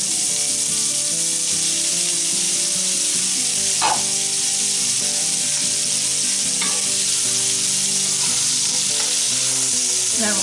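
Onion and apple sautéing in a little fat and pan drippings for sweet and sour red cabbage, a steady loud close sizzle throughout with a few faint stirring clinks.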